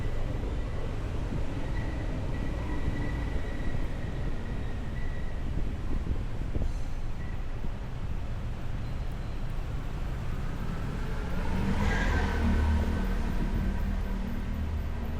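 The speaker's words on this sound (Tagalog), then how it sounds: "Ayan, may mga dumadaang truck na din." Trucks rumbling through a road tunnel, a heavy continuous low roar with echoing engine drone that swells toward the end as a vehicle passes close, no talk.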